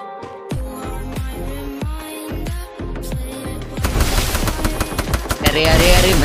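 Gunfire from the mobile shooter Free Fire, aimed at a gloo wall, cracks out as sharp single shots that quicken into dense, loud automatic bursts near the end.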